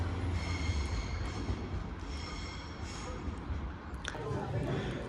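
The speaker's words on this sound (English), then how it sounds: "The train to Birmingham New Street's here." A cross-country passenger train arrives at a station platform, a steady low rumble of wheels and engine running throughout at moderate loudness, with a brief metallic squeal near the end and faint talk in the background.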